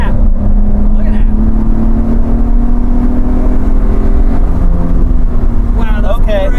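A Nissan 350Z engine revving through downshifts, a loud, close drone blipping and dropping in pitch under excited talk from people in the car.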